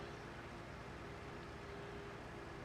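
A Stara tractor engine in Farming Simulator 17 drones steadily while driving down a sugarcane lane, a constant dense rumble with a faint steady whine and no change in pitch or loudness.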